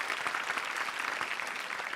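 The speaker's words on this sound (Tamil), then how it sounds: "the very very cool dude தேவன் அவர்களுக்கு ஒரு பலத்த கரகோஷம்" A television studio audience applauds to welcome judge Devan on a celebrity singing show, a dense, steady patter of many hands with faint voices mixed in.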